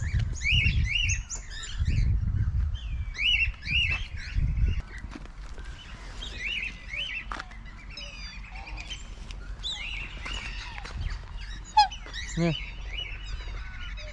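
Birds at a wildlife park in Australia chirp and tweet in repeated bright bursts, with a few goose-like honks, while low voices and handling noise come and go in the background.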